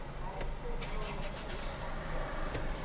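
A car engine runs steadily close by during a driving lesson as reverse gear is engaged, a medium rumble heard under people talking.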